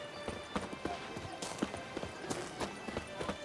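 Hooves of Roach, Geralt's horse in The Witcher 3, clip-clop in a quick, steady galloping rhythm, moderately close, with faint background ambience and no talking.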